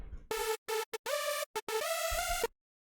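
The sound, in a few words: supersaw synth oscillator B alone, saw wave, more detune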